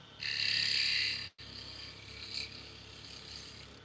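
Carbide tool shaving walnut and butternut wood spinning on a lathe: a loud, steady hiss of cutting for about a second, a sudden break, then a softer continuous rasp that runs on to the end.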